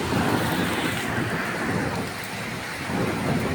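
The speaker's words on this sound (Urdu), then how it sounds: "بارش لگاتار ہو رہی ہے، آسمان میں بادل گڑگڑاہٹ کے ساتھ گرج رہے ہیں۔" Heavy rain pours without let-up in a thunderstorm over Moradabad, with a low rumble of thunder rolling underneath the dense hiss of the downpour. No voices are heard.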